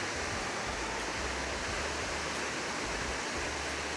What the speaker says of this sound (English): and then it comes pouring off this waterfall